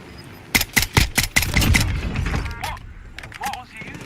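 A rapid burst of sharp gunshots in Call of Duty: Warzone, about six cracks in quick succession, followed by rustling movement and a couple of faint thuds.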